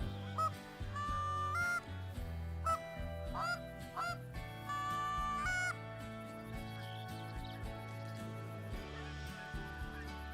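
Geese in a hunting video game give repeated nasal honks from a flock, steady and overlapping for several seconds, then thinning out, with no talk over them.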